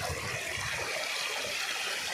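Water from a river stream rushes and gurgles in a steady broadband wash, close by, with no talking.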